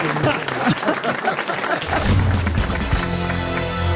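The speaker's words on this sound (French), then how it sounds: "qu'on peut applaudir" Studio audience applause on a French radio-TV comedy panel show, loud and dense at first, then giving way to a tonal musical sting with background voices.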